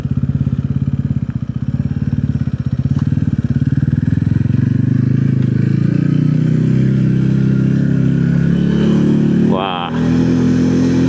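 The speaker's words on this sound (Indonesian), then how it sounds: "bisa aja naik motor ke atas" Motorcycle on an uphill road toward Puncak Meranti, engine droning loud and close with rising revs and a steady mechanical rumble throughout, a brief dip near the end.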